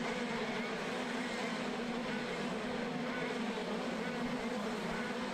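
KZ2 Masters racing karts rev together at the green-flag start of a final in Belgium, a dense, steady, buzzing engine drone that stays loud and uniform throughout with no audible voices.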